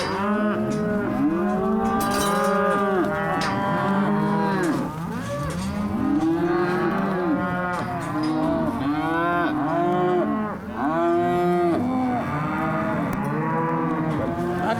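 Cattle moo continuously and loudly, many overlapping calls rising and falling in a steady chorus close by, with no talking.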